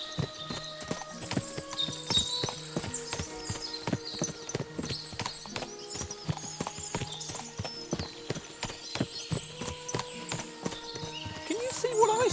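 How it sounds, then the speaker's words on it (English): Horses clip-clop steadily and occasionally whinny in the medieval role-playing game Kingdom Come Deliverance II, with hoofbeats repeating throughout amid dense game ambience and other background sounds. "What a lot of horses! They must have cost a fortune."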